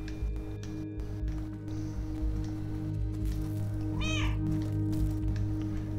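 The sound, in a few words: cat meowing in video game Stray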